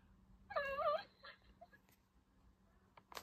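A dog in a video game lets out one short, wavering whimper up close, followed by quiet and a few faint clicks.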